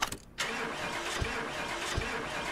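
A vintage Porsche 911 in the video game Car Mechanic Simulator 2018 cranks briefly, then catches and settles into a steady, close engine hum.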